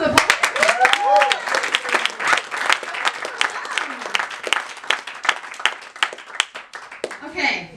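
Audience applause and claps fill a poetry reading, steady and fairly close, with cheering and a voice calling out over the top, easing off near the end.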